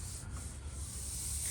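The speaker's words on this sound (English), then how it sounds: "I'm block sanding it out just to make sure there aren't any pieces of dirt or imperfections" Block sanding an old wooden farmhouse table surface by hand: a soft, continuous scraping rub, close and fairly quiet, with no talking.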